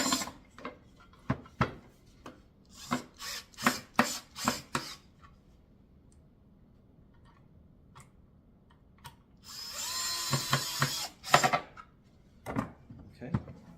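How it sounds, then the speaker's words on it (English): A cordless power drill with a Phillips bit drives screws into a natural wood kids' chair, several short whirring bursts close by, then a longer sustained run near the end, with clicks and handling between. "Allen key to my Phillips. So we can tighten that down pretty good."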